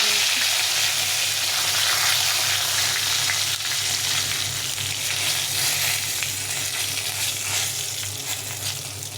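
Cumin seeds and dried red chillies sizzling in hot mustard oil in a wok, a loud, continuous crackling fry that eases slightly toward the end, with no talking.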